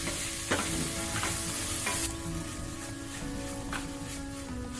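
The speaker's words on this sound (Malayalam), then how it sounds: "കക്ക ചേർത്ത ശേഷം നന്നായിട്ട് ഇളക്കി കൊടുക്കുക." Clams stirred in a hot frying pan for a Kerala-style kakka fry, giving a steady close sizzle with several scraping stirs of the spoon against the pan.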